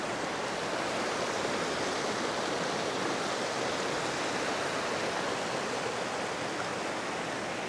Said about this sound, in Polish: Nie przejdę, bo jest ten piękny strumyk